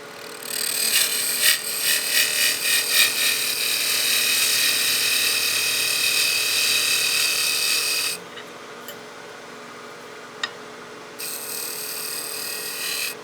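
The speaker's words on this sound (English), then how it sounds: "we're going to cut that 1/4 inch wide tenon that's going to go into the top half of the body" A wood lathe cuts a quarter-inch tenon in a turned snowman candle body, a close, bright scraping hiss with rhythmic chatter early on, dropping away for a few seconds before the cutting noise resumes.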